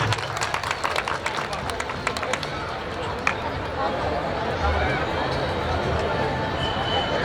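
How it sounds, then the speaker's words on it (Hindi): A crowd at a seven-day Shri Ram Katha religious gathering claps for a guest, with sharp scattered claps at first that swell into a dense, continuous patter under crowd murmur and voices. "हमारे रहीम भाई के लिए जोरदार तालियां बजा देंगे सब लोग।"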